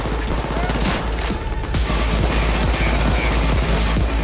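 Rapid automatic gunfire from a Payday 2 heist shootout rattles continuously in dense bursts, loud and close, with players talking over the shooting.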